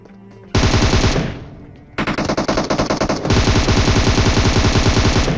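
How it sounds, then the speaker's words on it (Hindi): Automatic gunfire from PUBG pre-firing near Georgopol, loud rapid bursts of rattling shots, one burst fading, then a sustained stream of close, dense fire. "यहाँ पे मैंने जितना प्री फायर दिया"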